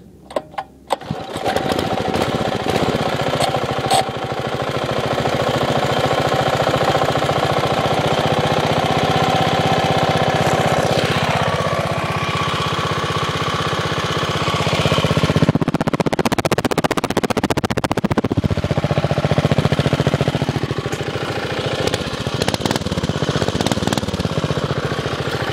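Homemade minibike with a 5 hp engine and homemade exhaust, starting after a few pulls and then running steadily with a loud, close, rattling putter that swells as the throttle rises and drops back throughout.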